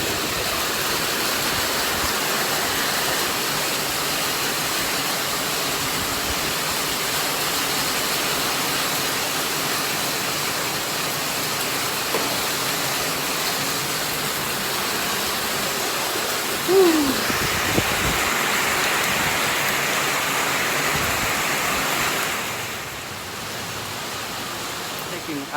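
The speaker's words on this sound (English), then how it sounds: "I'm just taking cover from the rain." Heavy rain pours steadily around a sheltered spot among houses in a Bac Lieu, Vietnam neighbourhood, a dense continuous hiss filling the whole stretch, with a brief faint knock partway through and the wash easing slightly near the end.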